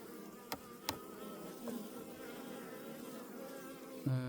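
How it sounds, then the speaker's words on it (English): Steady buzzing of many bees flying close by around hives in very warm weather, a continuous insect drone with a few brief sharper taps and a louder buzz near the end. "the bees are flying really nice. They're active."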